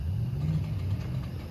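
A car's engine rumbles steadily nearby with a low, mid-pitched drone that swells slightly as it moves through, no voices heard.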